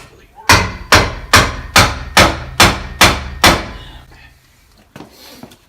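Eight sharp, evenly spaced hammer blows knock a suspension brace back into place during a DIY toe alignment, loud and close with a ringing decay, followed by a pause and a couple of faint knocks.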